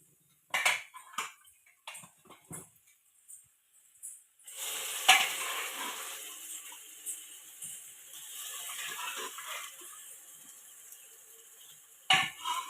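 Peas go into a spicy desi chicken curry: scattered spoon clinks and pan taps, then a steady sizzle of frying with stirring scrapes, close and alone.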